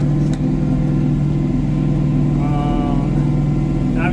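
A tractor pulling a WoodMaxx FM-78H offset flail mower through weeds runs with a loud, steady low engine drone and a constant mechanical hum, close up, with a brief higher whine partway through.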